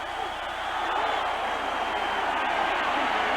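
Football stadium crowd roars in a steady, broad wash during a 1985 Michigan versus South Carolina college game, loud and continuous throughout without a break.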